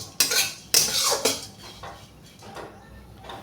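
Oats dry-roast over a low flame in a pan with no oil, stirred with a metal spoon that clatters and scrapes loudly against the pan in a few sharp strokes, then settles into softer scraping.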